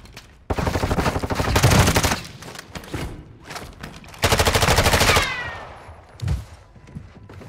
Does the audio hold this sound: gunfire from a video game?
yes